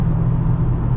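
A 2018 Dodge Challenger 392 with the 6.4-litre engine and a six-speed Tremac manual drives along, giving a deep, steady low rumble heard from inside the cabin with no talking.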